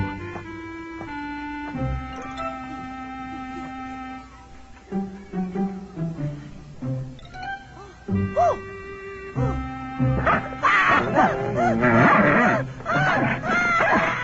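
A dog barks and whimpers in short yelps and whines over a steady tonal background, growing busier and louder toward the end.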